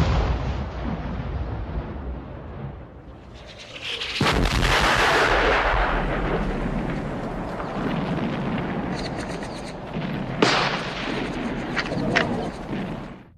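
A 40-pounder shell and First World War artillery fire: rumbling battlefield noise breaks into a loud booming blast that roars on for several seconds, followed by further sharp cracks and bursts, with a steady low drone underneath.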